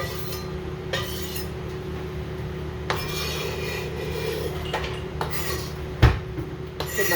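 Onions going into a pan of heating butter, with a soft steady sizzle running throughout and occasional clinks and scrapes of kitchenware, one sharper knock near the end.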